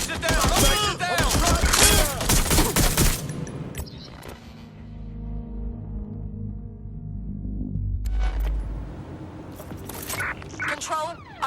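Bursts of rapid automatic gunfire from Watch Dogs: Legion gameplay, loud and dense at the start and again near the end, with a low rumbling lull between and shouted voices mixed in.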